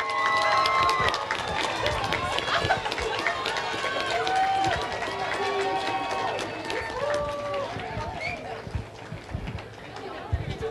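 An audience at the 2004 Pepper Fest talent show gives the candidates a round of applause. Dense, steady clapping runs throughout, with scattered whistles and shouts from the crowd.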